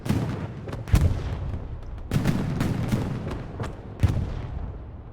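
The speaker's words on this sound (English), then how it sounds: "right now it looks like it's being dealt with pretty easily by just artillery alone" Artillery in the Hell Let Loose battle game booms out in heavy, repeated blasts, about five spaced over a few seconds, each followed by a rolling rumble.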